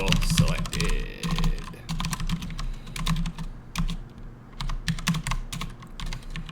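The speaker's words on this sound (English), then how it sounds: "Terrible typing." Rapid typing on a computer keyboard while coding, dense irregular clicks close to the mic, with a person murmuring or humming faintly underneath.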